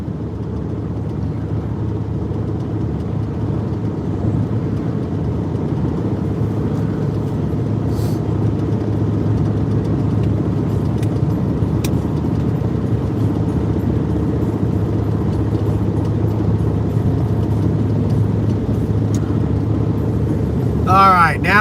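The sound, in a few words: car driving on highway, passing a truck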